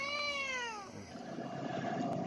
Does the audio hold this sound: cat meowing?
yes